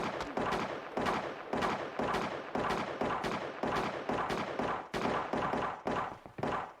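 Gunfire in the space colony game Space Haven comes as a steady series of sharp, punchy shots, roughly two per second, fairly close and loud, with no speech over it.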